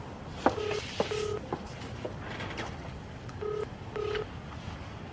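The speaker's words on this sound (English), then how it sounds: "Okay, it's ringing." A telephone ringback tone on a call sounds twice in a pair of short beeps, pauses, then repeats twice more, faint and in a quiet room.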